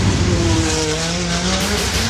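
A real car runs down an orange Hot Wheels-style track on a double-loop stunt. The engine roars loud and steady, with rising tire squeal across the whole stretch.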